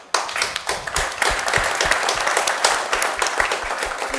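A single person clapping near a microphone at a political talk event, a run of sharp, fairly regular claps lasting about four seconds, with some room echo and no speech.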